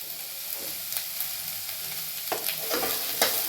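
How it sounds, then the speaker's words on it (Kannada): Onions for samosa filling fry in a pan with a continuous close sizzle, while repeated spatula scrapes and stirring strokes grow busier toward the end, with no voices. "ಉಳ್ಳಿಗಡ್ಡೆ ಫ್ರೈ ಆಗ್ಬೇಕೀಗ ಸ್ವಲ್ಪ ಕಲರ್ ಚೇಂಜ್ ಆಗ್ಬೇಕು ಉಳ್ಳಿಗಡ್ಡೆಗೆ"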